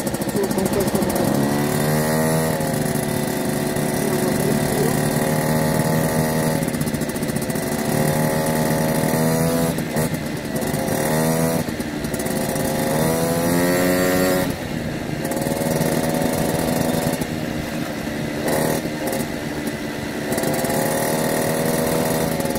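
A Gilera CBA motorcycle engine drones steadily while being ridden, its pitch rising and falling as it revs and shifts, loud and close throughout with no talk.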